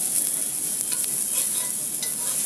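Uttapam with onion, capsicum and tomato sizzling in oil on a pan after flipping, a steady bright crackling fry with small pops, close and alone.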